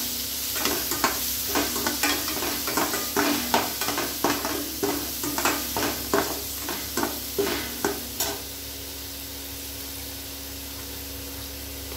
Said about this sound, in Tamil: பச்சை மிளகா ஒன்று சீசனிங்காக போட்டுக்கலாம்.